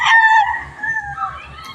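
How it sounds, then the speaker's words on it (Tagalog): A rooster crows loudly and close with a long drawn-out call, while chickens of various breeds cluck softly in a steady rhythm underneath at a poultry farm. "iba-ibang lahi ng manok ang makikita mo dito"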